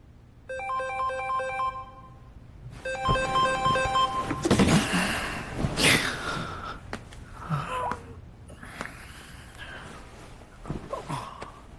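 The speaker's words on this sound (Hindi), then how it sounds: "आप फोन क्यों नहीं उठा रहे हो?" A telephone rings at midnight in a Korean thriller dubbed into Hindi, its repeated electronic ringtone bursts sounding clearly at the start before rustling movement and breathy sounds follow.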